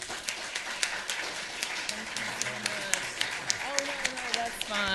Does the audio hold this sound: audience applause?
yes